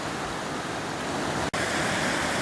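Dunn's Falls in Maine pours in a steady, full roar of rushing water, close and continuous, broken only by one sharp click midway.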